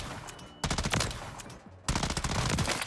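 M13B assault rifle firing in Modern Warfare 3, with two rapid bursts of loud, tightly spaced automatic shots separated by a brief pause, close and dominant with no talking.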